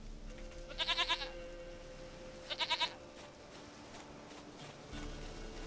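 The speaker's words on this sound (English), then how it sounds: "Goat of mine, dearest, sweetest goat." Goat bleating in the Witcher 3 video game, two short quavering bleats of several pulses each, heard fairly close against quiet ambient background.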